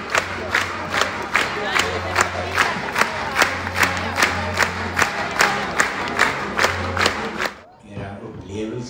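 A circus audience cheers and claps in rhythm, loud and close, with steady rhythmic beats and a crowd roar that cuts off near the end.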